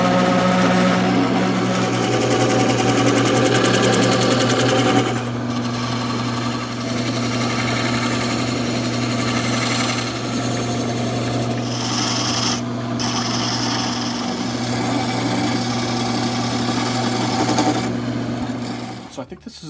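A wood lathe spins an applewood tool handle, its motor humming steadily while the tool rasps and scrapes against the wood for a long stretch, loud and close, before winding down at the end.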